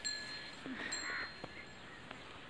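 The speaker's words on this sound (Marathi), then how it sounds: "दुपारच्या पाऱ्यात कावळे पण वरडाय लागलेत" Crows caw outdoors at midday, a few harsh calls rising over a steady background hiss with no talking.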